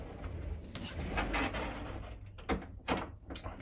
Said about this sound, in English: we have a little sliding door here.